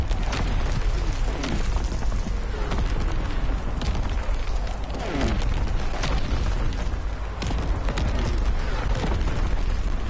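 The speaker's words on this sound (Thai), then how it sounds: "โอ้ยตอนนี้โดนเพื่อนทิ้งระเบิด" Bomb blasts in the World War II shooter Call of Duty WW2 multiplayer, a dense, continuous roar of booming explosions and rumbling debris with sharp bursts layered throughout.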